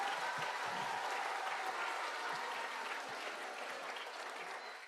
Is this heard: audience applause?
yes